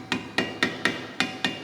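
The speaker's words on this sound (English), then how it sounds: "Using a ball peen hammer," A ball peen hammer strikes sheet metal in a workshop: seven sharp, evenly spaced metallic blows about a quarter second apart, each with a brief ringing tail, loud and close with no voices.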